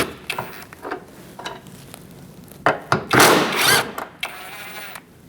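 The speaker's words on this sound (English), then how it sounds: "now we're going to use a 10mm socket and remove these two bolts." A 10mm socket works on the lift gate bracket bolts of a Chevrolet HHR, with scattered close clicks, knocks and scrapes of metal and a short louder rustling burst near the end.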